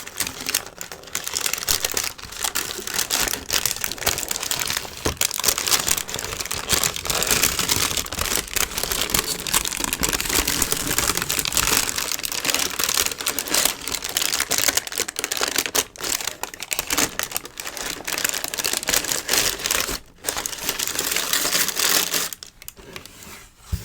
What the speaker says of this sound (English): Let's get some sounds with this tissue paper getting out the other shoe.